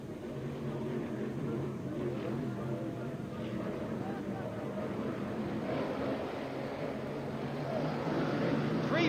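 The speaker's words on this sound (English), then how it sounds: "Three boats together, a great sound as they come into the front straight." Racing powerboats at a 1989 Grand Prix event, three together roaring along the front straight as a dense continuous engine drone, with commentary over it.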